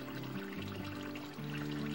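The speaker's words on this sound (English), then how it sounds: "I'm just going to pour this in here." Hot tarragon jelly pours from a pot into a sterilized glass jar, a short liquid glug and trickle with shifting pitch as the jar fills, close and clear.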